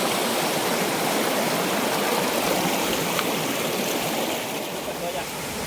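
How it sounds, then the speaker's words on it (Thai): A tall waterfall pours into a flowing stream, making a steady, loud, dense rushing roar that stays even throughout, with no voices standing out above it. "ก็น้ำตกที่เราจะไปนี้ค่อนข้างที่จะสูงนะเพื่อนทุกคน"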